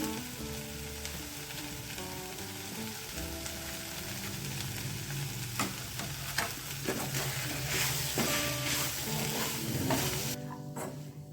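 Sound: onions and curry leaves frying in a pan

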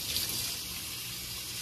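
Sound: running warm water washing bleached lace front wig

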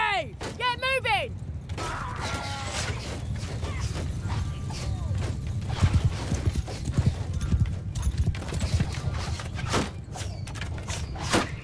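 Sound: horses galloping in video game Mount & Blade 2: Bannerlord

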